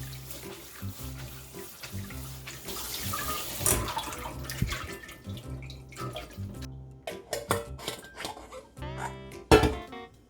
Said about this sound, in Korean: 흐르는 물에 데쳐주세요.